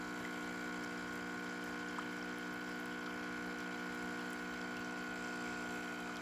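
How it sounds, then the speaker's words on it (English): A new replacement water pump in a DeLonghi 5503 espresso machine hums steadily and evenly as water flows out through the group head, a constant close mechanical drone with no talking. "we have nice water flow coming out from the group head"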